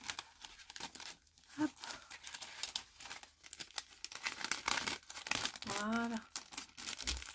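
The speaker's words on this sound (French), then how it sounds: "je vais remettre ça précieusement dans le petit sachet" Paper crinkling and rustling as a small item is handled and slipped into a little sachet, close and fairly quiet, with someone speaking French briefly over the handling noises.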